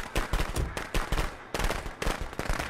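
Fireworks in the horror game Friday the 13th, a rapid crackling string of sharp pops and bangs, loud and close, bursting in irregular quick volleys with no talking.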